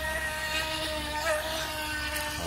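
A Skytech H100 RC speedboat accelerating through turns on water, its small motor giving a continuous high buzzing whine that stays loud and steady with slight pitch shifts.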